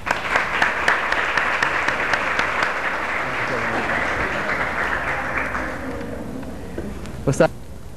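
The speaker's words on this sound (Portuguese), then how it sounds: "Palmas, né, gente?" A crowd applauds at a formal event as a regional superintendency director is welcomed to the table, with sustained loud clapping that gradually thins and fades toward the end while voices murmur underneath.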